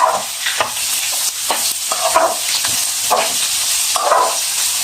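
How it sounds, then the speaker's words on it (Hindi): Capsicum and cabbage are stir-fried in a pan, giving a loud close hiss and sizzle broken by repeated scraping strokes of a spatula, with no talking. "उसके बाद शिमला मिर्च और साथ ही बंद गोभी, इनको हम अच्छी तरह से भूनेंगे"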